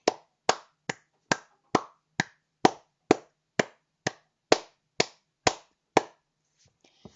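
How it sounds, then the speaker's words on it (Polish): One person claps hands about fourteen times at an even, slightly slow pace. Each crisp clap stands alone and close, with silence between them, then they stop. "I jeszcze raz biję brawa"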